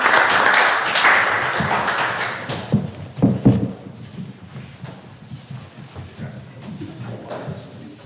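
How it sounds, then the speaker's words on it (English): An audience at a county board of education meeting applauds students with dense clapping that is loud for the first two seconds, then fades and thins out. Scattered claps and talking continue afterward. "So if we give these kids a big round of applause"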